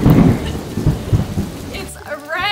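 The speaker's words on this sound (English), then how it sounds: "It's rain!" Heavy rain with rumbling thunder, loud and close, easing off near the end as a voice speaks briefly.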